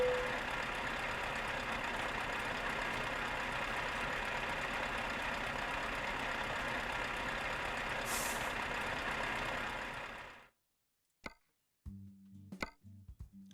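A truck engine in a trucking video game idles and runs with a steady, close rumbling drone for about ten seconds, then cuts off abruptly, leaving a few short clicks and tones.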